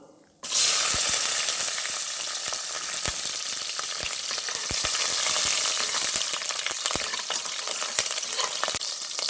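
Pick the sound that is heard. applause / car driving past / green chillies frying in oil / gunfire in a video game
green chillies frying in oil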